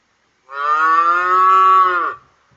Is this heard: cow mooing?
yes